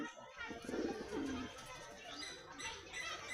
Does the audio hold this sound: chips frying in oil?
no